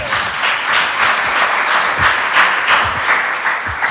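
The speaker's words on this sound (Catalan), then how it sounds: "Aplaudem per Jaume" An indoor audience at a talk-style event claps together, a dense, even round of applause at close range that carries steadily throughout without fading.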